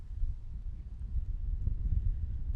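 Wind buffets the microphone outdoors at a varsity high school baseball tournament game, making a steady, loud, low rumbling roar that fills the whole stretch without pause.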